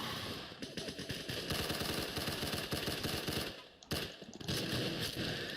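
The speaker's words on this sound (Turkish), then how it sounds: "çok büyük bir çatışma bu" Dense rapid gunfire fills a big firefight in the Roblox Arsenal game, loud and continuous with fast automatic bursts. A brief gap near the four-second mark is followed by more firing.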